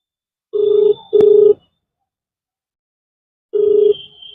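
An unanswered outgoing phone call's ringback tone: steady, clean electronic beeps in two quick pulses, a long silent gap, then another pulse starting, heard alone and close.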